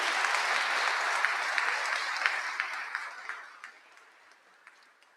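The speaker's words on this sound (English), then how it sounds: "give him a round of applause" An audience at a history talk gives a round of applause, dense steady clapping that thins into scattered individual claps and fades out.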